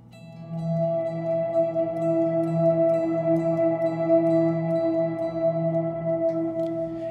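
Sustained ambient electric guitar drone through a reverb pedal, steady layered tones holding evenly for several seconds with a smooth wash of reverb, no talking.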